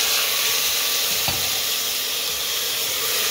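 Chicken gizzards fry with onion, garlic and parsley in a pan, giving a loud, continuous broadband sizzle close up, with a brief stirring clatter partway through.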